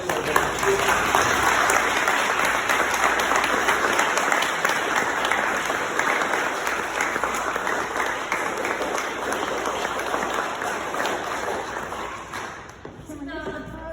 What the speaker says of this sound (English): let's give Uncle Mike a round of applause and Kelly